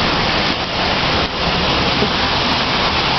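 Steady, loud rain pours down outdoors while a dog runs and plays in it, a dense unbroken hiss filling the whole stretch with no voices.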